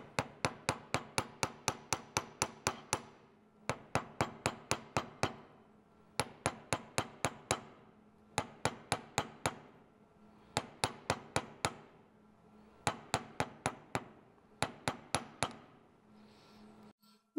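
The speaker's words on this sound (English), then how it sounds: "And I'll go ahead and flip it over and hammer a little bit on the other side." A chasing hammer flattens a silver piece on a hard surface in quick bursts of sharp metallic strikes, about ten blows per burst, each burst separated by a short pause. The strikes are clear and close.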